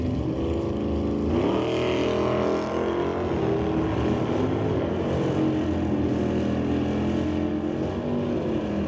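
Two drag cars, a 1978 Ford Fairmont and a 1972 Chevelle, roar through a quarter-mile run, with a loud, sustained engine drone that climbs in pitch as they accelerate and stays steady and close throughout.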